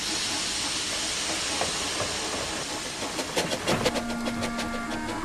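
A small steam tank engine with small wheels trundles along the main line, a steady loud hiss of steam with rhythmic clanking and a brief whistle-like tone toward the end.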